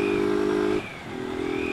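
A motorcycle engine runs steadily while riding through city streets, its harmonic drone holding even, briefly dropping off as the throttle eases, then returning at a similar pitch.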